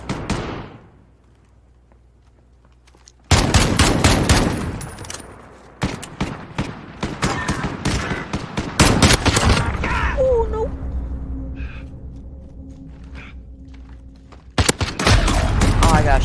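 Marksman rifle gunfire in a sniper 3v3 match of the Modern Warfare video game: repeated loud, sharp shots in an irregular rhythm with mechanical clatter between them, after a brief quiet start.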